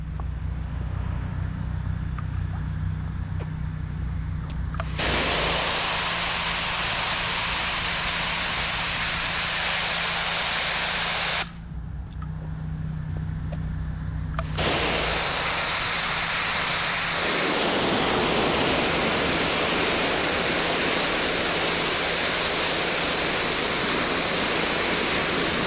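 Pressure washer spraying water while cleaning a city surface, a loud, steady hissing roar that cuts out briefly twice and resumes, running almost continuously throughout.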